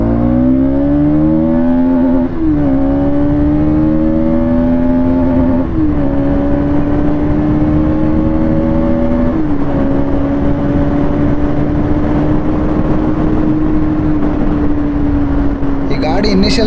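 A Bajaj NS 200 motorcycle engine pulls hard through rising revs, its tone climbing and dropping at each gear change in a steady repeating pattern, loud and close throughout.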